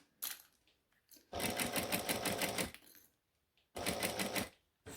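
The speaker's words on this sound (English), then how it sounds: "Because this is top stitching, you want to go nice and slowly." A sewing machine doing slow top stitching, running in two steady bursts of rapid mechanical needle chatter separated by quiet pauses, close and clear with no talking.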